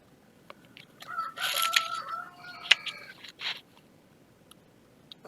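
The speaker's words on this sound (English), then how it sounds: "We also have roosters outside" A rooster crows from a distance, a drawn-out faint call with a few clucks and scratchy noises around it, quiet and outdoors-sounding.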